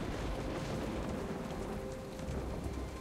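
Rain from the Jurassic Park Telltale video game, a dense, steady downpour hissing evenly throughout with a low rumbling undertone like distant thunder, no talking.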